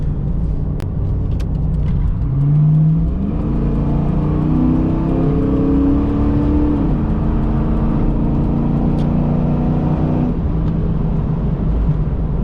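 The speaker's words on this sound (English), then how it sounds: "Like I said, the car don't sound too bad, really." A cammed Ford Mustang engine revs up and holds high through the middle, its lumpy idle rumbling loud and close before and after the climb.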